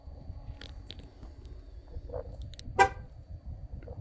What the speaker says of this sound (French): j'ai quelque chose qui est mal fermé parce qu'il a klaxonné